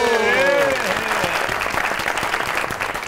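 A studio audience applauds to welcome a poet guest on a comedy talk show, a steady roar of clapping that starts over fading music and carries on to the end.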